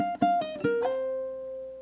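Ukulele phrase closing a blues rock riff's B melody: a few quick plucked notes with a pull-off and slide, then a final note left ringing and slowly decaying, played alone and close.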